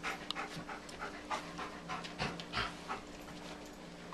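A dog pants rapidly and steadily up close, the breathy rhythm continuing for several seconds with a few soft whimpers mixed in and no talking.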